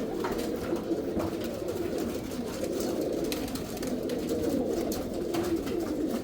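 Pigeons bathing in water coo steadily, with soft, repeated, rolling calls and light splashy ticks throughout, mid-distance and moderately loud.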